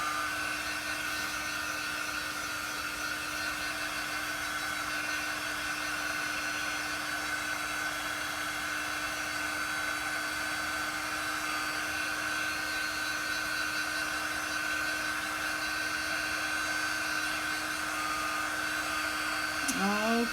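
A hair dryer blows steadily on a chalk paste transfer, a constant close whirring hum with a high motor whine that holds unchanged for about twenty seconds, cutting off at the very end.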